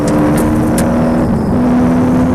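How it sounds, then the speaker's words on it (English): A 1981 Porsche 928S historic rally car with a 300-horsepower engine, heard from on board, drones loudly and steadily throughout, a close, sustained engine tone with no talk over it. "We leap aboard Alan Courtney's 1981 Porsche 928S"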